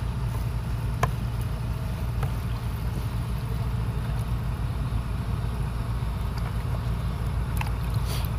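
A small boat's engine runs steadily on the water, a low continuous drone with faint clicks and knocks, moderately distant and without talk.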